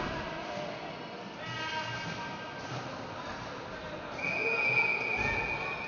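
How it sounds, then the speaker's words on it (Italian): A referee's whistle at a Serie C ice hockey game between Treviso and Montebelluna sounds one sustained blast of about a second, standing out over the steady rink din. "D'Ammasso nell'angolo fa fischiare l'arbitro."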